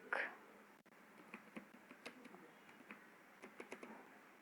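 Keys on a computer keyboard clack in short irregular bursts while Java code is written, faint and close, with a brief voice at the start.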